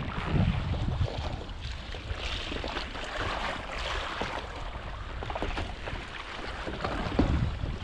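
Wind gusts roar steadily at sea beside a boat, a continuous broadband rush with swells of louder buffeting, no talking.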